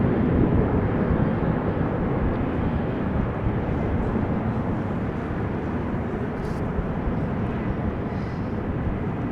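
A Nippon Cargo Airlines plane at Amsterdam Schiphol Airport produces a heavy, steady jet-engine roar that stays loud and broad, with little change over several seconds.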